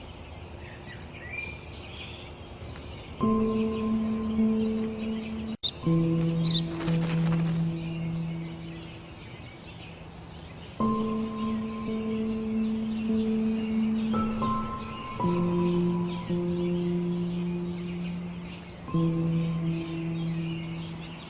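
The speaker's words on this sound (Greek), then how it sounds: "είναι ένα σπουργίτη!" Small birds chirp and trill in repeated bursts over a steady background hum, some calls close and bright, others fainter.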